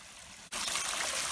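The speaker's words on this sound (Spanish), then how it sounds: "un regatillo entubado, así que entiendo que será permanente y con buen agua" Piped mountain stream on a hiking trail, water trickling and splashing steadily from the pipe, close and continuous, after a brief quiet moment at the start.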